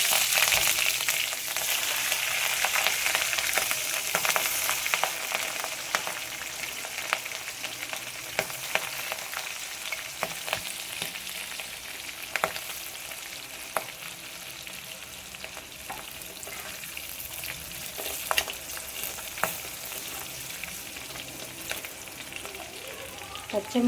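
Green chillies fry in oil with fennel seeds, giving a steady close sizzle for over twenty seconds, dotted with sharp crackles and spatters, no talking.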